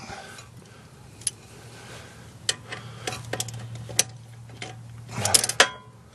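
A wrench clicks and ratchets on a front brake bolt of a 2010 Hyundai Sonata, giving sharp metallic ticks at irregular intervals and a brief busier burst near the end, over a low steady hum.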